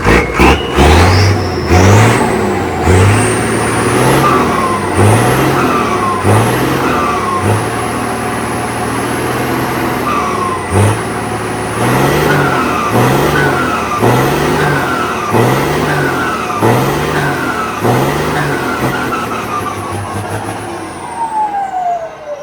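A Hino J08C diesel truck engine with an upgraded turbo revs hard again and again through a short, square-tipped exhaust, each rev a loud, rising roar, in a rhythmic series close by.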